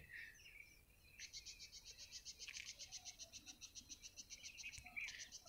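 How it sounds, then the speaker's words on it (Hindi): Birds chirp steadily in a quiet outdoor setting, with a rapid repeated high trill and scattered tweets, soft and somewhat distant. "आप चिड़ियों की चहचहाहट सुन सकते हैं"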